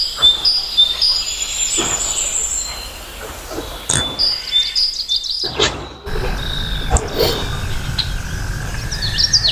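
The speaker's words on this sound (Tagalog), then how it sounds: "Parang nakaka-relax po yung tunog ng mga ibon." Birds chirping outdoors beside a condo, with high, sharp calls and trills scattered over a constant insect-like buzz and outdoor background noise.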